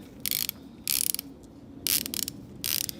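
Fine-tooth Pittsburgh ratchet from Harbor Freight, roughly 72 to 80 teeth, clicking in four quick bursts of rapid fine clatter with short pauses between, close and clear with no talking.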